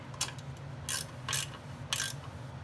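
Ratchet wrench snugging up bolts on a 2000 Toyota 4Runner during a rear drum-to-disc brake conversion, three short bursts of quick metallic clicking with brief pauses between, close and fairly quiet.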